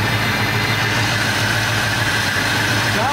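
A Chevy C10 engine with a new Edelbrock AVS2 carburetor idles after sitting seven years, a steady, loud, close rumble with no talk over it.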